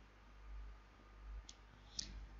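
Computer mouse clicks during CAM software work, two short crisp clicks about half a second apart over a faint steady hiss, close and quiet.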